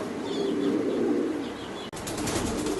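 Jacobin pigeons at a pigeon farm make a steady close-up flutter and rustle with soft cooing and chirps, loud and continuous with a brief break partway through.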